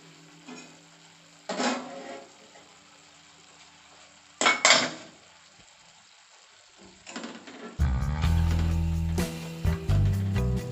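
Metal clanks from handling a lidded pot of semiya upma on the stove: a couple of sharp knocks as the lid comes off, then a steady, louder cooking clatter and rumble. No talking.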